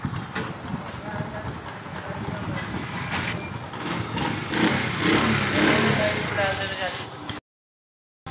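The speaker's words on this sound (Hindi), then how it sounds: "ये आप आवाज़ चेक कर लें, इंजन का साउंड चेक कर लें" A 1993 Honda CD70 motorcycle engine runs steadily up close after tuning and an air filter fitting, with someone talking over the continuous buzzing hum before it cuts off abruptly near the end.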